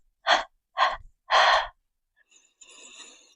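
A person doing a pilates exercise breathes in three quick audible gasps, then lets out a long, soft exhale that trails off, close and with no talking.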